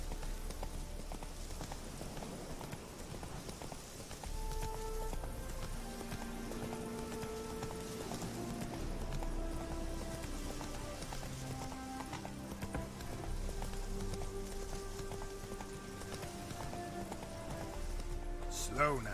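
Roach, a horse in The Witcher 3 game, clip-clops along at a steady rhythmic gait over game music and ambience, fairly close and moderately loud, with a few short spoken words over it.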